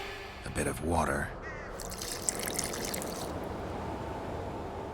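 Water pours into an alchemy mixture with burnt lime in the video game The Witcher 2: a soft, steady trickle and splash that follows a brief spoken voice and runs on evenly to the end.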